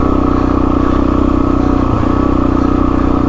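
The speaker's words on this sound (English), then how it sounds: "I'm going to give it a little bit of gas because it's going to get a little looser." Motorcycle engine held at a steady throttle while riding over rocks on an off-road trail, a loud continuous close drone with a rapid pulsing beat and faint clatter underneath.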